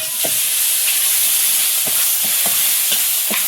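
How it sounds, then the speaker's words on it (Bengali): Ginger garlic paste sizzles loudly and steadily in hot oil, a close, continuous frying hiss with occasional soft stirring clicks and no talking. "আদা রসুন বাটা দিই তেলে।"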